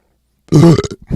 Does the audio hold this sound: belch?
yes